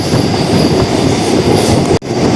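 A MEMU passenger train rolls over a combined road-and-rail bridge near the Godavari, a loud continuous rumble of wheels and carriages with a brief sharp dropout near the end.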